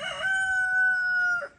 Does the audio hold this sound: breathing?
no